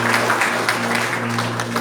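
Church congregation applauding together during a Baptist service, a dense, continuous wash of clapping in a reverberant hall, with a sustained organ or keyboard tone held underneath.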